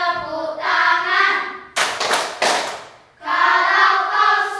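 A group claps hands along to the children's action song 'Kalau kau suka hati, tepuk tangan', a burst of quick, sharp claps in the gap between sung phrases, with the singing voices loud on either side.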